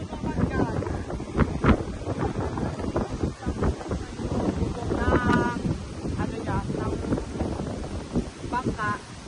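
Strong wind at sea buffets the microphone with a constant rough roar, heard from a small boat while people talk over it.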